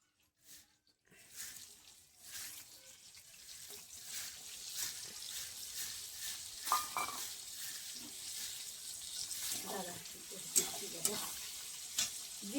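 Whole cumin seeds and chopped onion fry in oil for a goat curry, a soft continuous sizzle with scattered spoon stirs and small clinks, fairly quiet and close, no voices.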